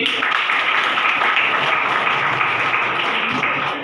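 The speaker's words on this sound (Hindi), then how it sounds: "जोरदार ताली" Audience at a business seminar gives loud, sustained applause, a dense steady roar of many clapping hands close by that tapers slightly at the end, with no speech over it.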